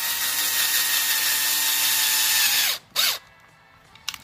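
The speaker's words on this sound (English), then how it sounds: "it's a 5mm drill bit that I'm using" A power drill with a 5mm bit bores a hole in an Arrma Limitless RC car chassis, a steady high whine for several seconds that cuts off, briefly restarts, then stops with small clicks.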